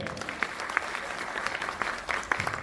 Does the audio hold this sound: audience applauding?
yes